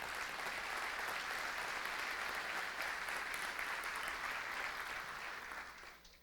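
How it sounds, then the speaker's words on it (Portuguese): A church congregation applauds in a dense, steady wash of clapping heard from within the room, holding evenly for several seconds before fading at the end. "Quer aplaudir? Pode aplaudir, por favor."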